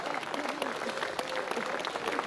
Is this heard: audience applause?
yes